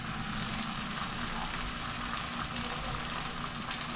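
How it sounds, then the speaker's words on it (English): A birria-dipped tortilla fries in a pan for quesadilla tacos, giving a steady, close sizzle and crackle that runs evenly throughout with no talking. "You wanna dip your tortillas in here, throw it in a pan."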